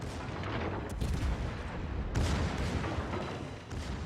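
Heavy naval guns from a Kansas battleship in the World of Warships game fire in loud booming blasts, with a big shot near the start and another strong one around the midpoint, each rolling into a long rumbling decay.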